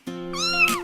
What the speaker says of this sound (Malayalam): മ്യാവൂ മ്യാവൂ മൂളി നടക്കും കുഞ്ഞിപ്പൂച്ച എനിക്കുണ്ട്.